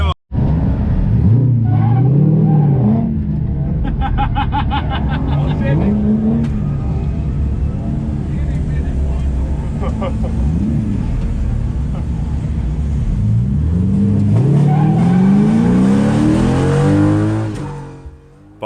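Drift cars rev hard during practice at the Croatian Drift Challenge round at the Mičevec test track, engines rising and falling loudly and continuously with tire squeal, while someone talks over the roar.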